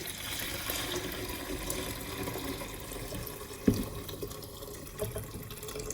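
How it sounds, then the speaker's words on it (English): Sweet tea pours steadily into a container with a soft, continuous splashing trickle, a small clink partway through. "And one of the things that Bonnie told me is just go ahead and pour it in."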